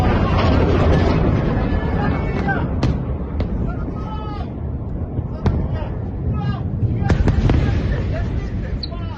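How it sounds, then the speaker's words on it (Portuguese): Explosions from an Iranian missile attack heard in Tel Aviv: a dense, continuous roar of booms and sharp cracks throughout, with voices and shouting mixed in. "Explosões foram ouvidas em Tel Aviv e também em Jerusalém."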